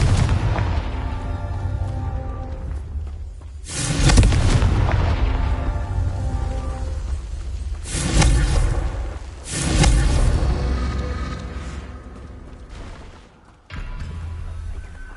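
Confringo spell explosions in the video game Hogwarts Legacy: several heavy booming blasts spaced a few seconds apart, each with a rumbling tail, loud over a dense game background.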